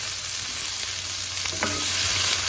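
Half a chopped onion fries in a pan for a cabbage and carrot thoran, giving a loud, continuous close-up sizzle with a few soft scrapes of stirring.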